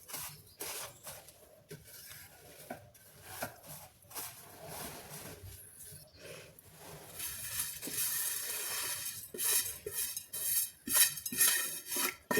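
Metal scraping and clinking of a spoon stirring garam masala and garlic in a pan, steady and busy, growing louder toward the end, with no talking.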